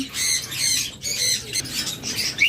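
Small pet birds, budgerigars and lovebirds kept as breeding pairs at a bird sale in Bangladesh, squawk and chirp continuously, a dense nearby chatter of shrill calls with no talk over it.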